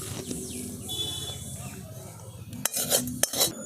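Metal utensils scrape and clink against an oiled plate as cooked fig (dumur) dhokar mixture is moved onto it, with soft kitchen clatter and a few sharper knocks near the end.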